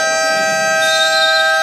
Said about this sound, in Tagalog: Haba ng sirena.